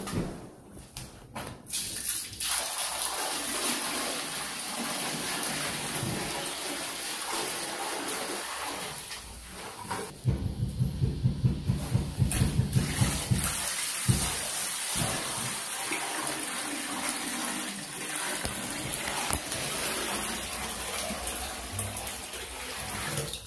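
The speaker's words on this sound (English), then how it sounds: "let's pour this water in and see what's up" Water poured into a freshly waterproofed shower pan, coated with RedGard, to test for leaks: a steady splashing, gushing stream close by, with a stronger surge of splashing partway through and no talk.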